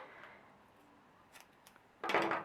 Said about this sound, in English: The twine needs to be cut into 16 equal-sized pieces.